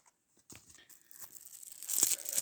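A Lejyonerler trading card pack is torn open, foil ripping in bursts that grow louder and crinkle toward the end, close up with no talk.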